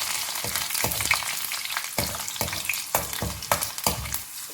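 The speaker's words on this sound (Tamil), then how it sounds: "பூண்டு போட்டு கொஞ்சம் வதக்கி விட்டுடலாம்." Garlic frying in oil with curry leaves for onion puli kuzhambu, a dense, loud close-up sizzle broken by regular scraping stirs of the spatula, about one every half second, no voices.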